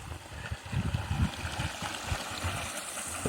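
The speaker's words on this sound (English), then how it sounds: "With a nice little creek running through." A small creek runs beneath a trail bridge in the Mt. Adams Wilderness, giving a steady close wash of flowing water with gurgling pulses, partly mixed with footsteps on the bridge planks.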